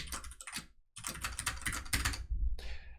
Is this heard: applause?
no